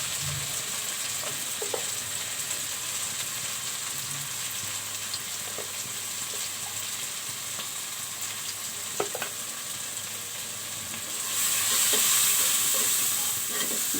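Ginger and garlic frying in a curry pan while cooking gourd with snakehead fish: a constant close hiss of sizzling oil with occasional stirring clicks, the sizzle rising louder near the end.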